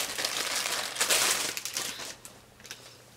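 A Jurassic Park item from a monthly Wootbox subscription box is unwrapped from its packaging, with close, rustling crinkles of plastic and paper in a dense burst that thins into a few scattered crackles.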